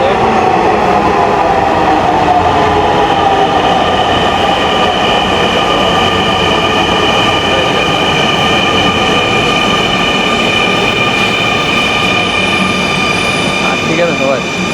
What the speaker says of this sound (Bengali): রিয়েলের আওয়াজটা দেখেন